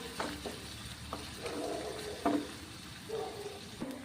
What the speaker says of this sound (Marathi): कांदा आपल्याला व्यवस्थित आता मंद आचेवर हलकासा कलर बदलेपर्यंत परतून घ्यायचा आहे